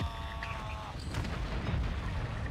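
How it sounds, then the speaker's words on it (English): Mortar strike in the Warzone battle royale game, a dense rumbling blast with loud sustained low boom and crackling debris lasting a couple of seconds, with a brief whistling tone early on. "Oh, that mortar."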